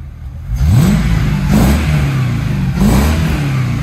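A 5-litre Mercedes M113 V8 swapped into a BMW E36, revving in three distinct rising and falling pulls, loud and close with a deep rumbling exhaust.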